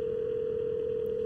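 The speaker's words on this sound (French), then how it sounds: "Son téléphone sonne, mais il répond pas." A phone ringing tone in the GTA V video game, a single steady electronic tone that holds at an even level for the whole moment, alone without talk.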